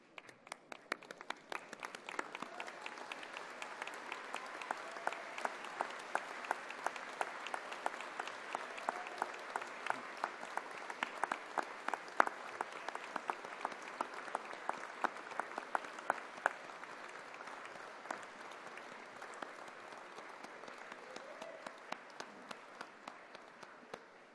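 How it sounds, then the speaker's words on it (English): Graduates at a university media and communication graduation ceremony give a long, sustained round of applause for their supporters, dense crowd clapping holding steady throughout. "join me in showing your thanks with a huge round of applause"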